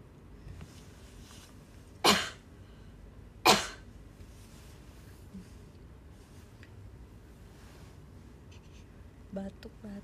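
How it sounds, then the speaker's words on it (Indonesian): A woman coughs twice during a live-streamed chat, two sharp bursts about a second and a half apart, close to the microphone over quiet background sound. "aku pengen batuk"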